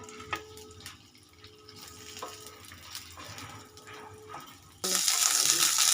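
Okra frying in hot mustard oil: a loud, steady hiss and crackle that bursts in abruptly near the end, after quieter clinks and kitchen sounds.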